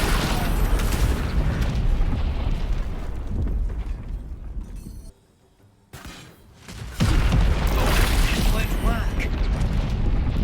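A rune powder bomb exploding in the fantasy video game Baldur's Gate 3: a dense, roaring blast fills the opening seconds, drops to a brief near-silence, then erupts again in a loud rumbling burst, with voices talking through it.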